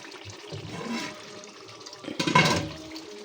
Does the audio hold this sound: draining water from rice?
yes